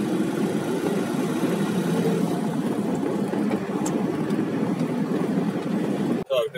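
A car engine runs steadily while driving in dense traffic into Odesa, a continuous low hum and road rumble from inside the cabin, ending in a brief bump.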